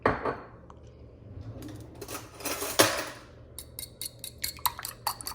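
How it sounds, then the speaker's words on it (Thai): Rapid clinking and tapping as three eggs are whisked in a bowl, growing into a fast, regular beat of light strikes, close by and fairly loud. "ตีไข่ให้เข้ากันนิดนึงค่ะ"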